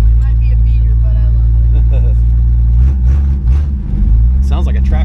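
A 1967 Plymouth Valiant beater engine idles slow and loud with a low, steady rumble throughout, and people talk over it.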